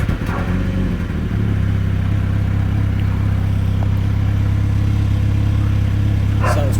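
A 2023 Mini Cooper JCW engine idles with a steady low rumble, loud and close, with a brief rev near the start and faint clatter around it.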